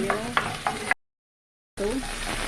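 Onion and garlic sauté in hot cooking oil with a close, bright sizzle broken by several sharp stirring scrapes, then a brief total silence before the frying resumes.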